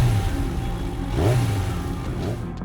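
A motorcycle with an open-pipe exhaust revs and rises in pitch, loud and close, with swelling engine tones running through the whole stretch and no talk over it.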